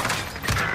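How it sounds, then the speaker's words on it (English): A cluster strike pounds down in a Call of Duty Warzone Rebirth match, a dense rumbling barrage of rapid explosions close and loud, with no voices over it. "Allied cluster strike arriving."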